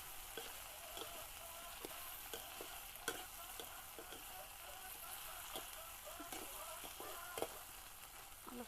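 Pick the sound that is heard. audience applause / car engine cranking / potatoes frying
potatoes frying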